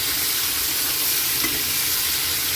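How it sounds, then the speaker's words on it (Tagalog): Pork and onions sizzling and frying in a pan for La Paz batchoy, a steady close hiss with light stirring throughout and no talk. "okay na yung sibuyas natin, lagay na natin yung pork"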